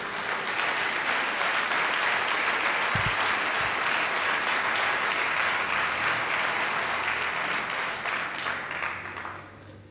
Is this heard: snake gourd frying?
no